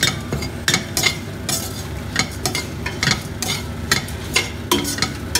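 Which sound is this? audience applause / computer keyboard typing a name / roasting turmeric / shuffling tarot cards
roasting turmeric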